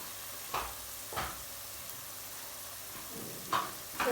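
Food being stirred in a pan during home cooking, a few short scraping, sizzling strokes spaced apart over a low steady frying hiss, close and fairly quiet, with no talk.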